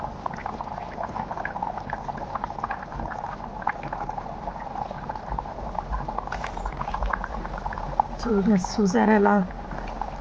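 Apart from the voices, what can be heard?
goat head curry boiling in pot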